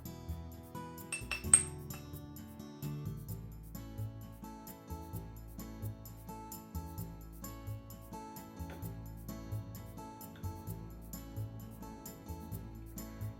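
Flour, matcha powder and baking powder are stirred in a bowl, making steady rhythmic clinks of utensil against the bowl with one brighter knock near the start. The clinking is close and fairly quiet.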